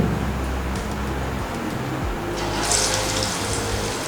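Chicken kshatriya kebab pieces lowered one at a time into hot oil produce a steady, loud bubbling hiss that continues throughout, with low rumbling underneath and a brief brighter crackle near the end.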